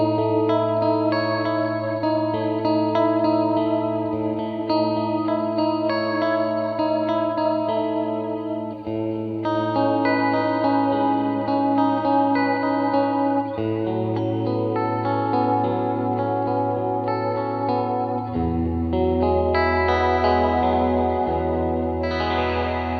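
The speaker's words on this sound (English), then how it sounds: "I'm going to show you the modulated reverb, and this basically means that we added a tri-chorus" Notes played through a TC Electronic Hall of Fame reverb pedal on its modulated setting, with a tri-chorus added to the reverb tail, ring out as sustained, lush, shimmering tones that change pitch every few seconds, without any voice.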